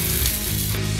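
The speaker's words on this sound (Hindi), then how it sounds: "अब ये तड़का हम चटनी पर डाल देते हैं।" Hot chilli tempering poured over coconut chutney gives a steady, close sizzle with a frying hiss that lasts the whole second, with no talk over it.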